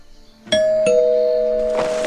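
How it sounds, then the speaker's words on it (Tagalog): A doorbell rings indoors with a two-tone ding-dong, bright sustained chime tones that ring on and fade slowly, loud and close with no talking. "biglang may nag-doorbell"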